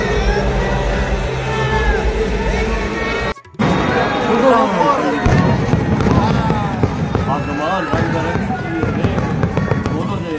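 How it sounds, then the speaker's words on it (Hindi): Grand fireworks and firecrackers at a Diwali-style celebration outside the Ram temple in Ayodhya, with a laser show, crackling and booming continuously amid crowd noise and talk, broken by a brief dropout. "आप देख रहे हैं ये भव्य आतिशबाजी"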